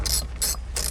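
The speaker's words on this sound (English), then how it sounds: "You need a 10 millimeter socket or either a wrench to take off the ground" A 10 mm socket wrench ratchets off the ground terminal of an AGM H8 battery in a 2022 Rossmönster Sprinter van, giving three quick bursts of dry clicking separated by short pauses, close up with no talk.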